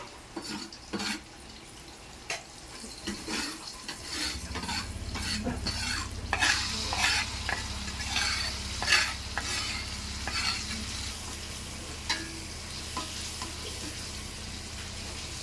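Sambal with tuna is stirred and fried in a pan, a steady sizzle running under repeated scraping strokes of a spatula, with occasional drips and clinks close by.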